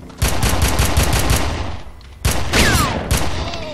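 Rapid bursts of gunfire from shotgun-wielding soldiers in the video game Red Faction, loud and close, with quick volleys separated by short pauses.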